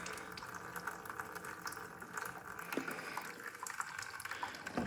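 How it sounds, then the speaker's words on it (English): Water pours steadily into a dirt bike radiator to flush out old coolant, a close, continuous splashing and trickling with no speech. "Even this is fine, just so to rinse out the rest of the coolant."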